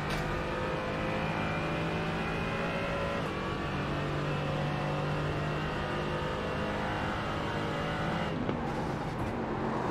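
A GT4 race car engine in the iRacing simulator, a steady loud droning engine note with shifting pitch and a brief dip near the end, with no talk.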